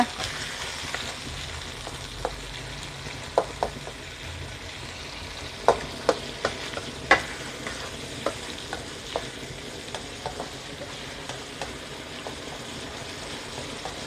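Canned fish being stir-fried in a pan ahead of cabbage, a steady frying sizzle with scattered spatula scrapes and taps against the pan throughout.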